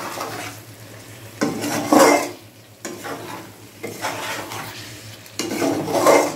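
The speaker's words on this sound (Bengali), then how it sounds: "এবার একটু নাড়াচাড়া করেই নামিয়ে নেব।" Dhaba-style chicken masala is stirred in a pan, loud rhythmic scraping swells of a spoon moving through the thick sizzling gravy, several strokes close up with short quieter gaps between them and no talking.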